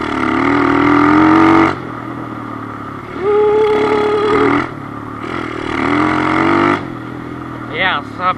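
2008 Kawasaki KLX110 pit bike engine revving and pulling as it is ridden, with rising pitch sweeps and brief gear-change dips, loud and near, with a voice talking over it.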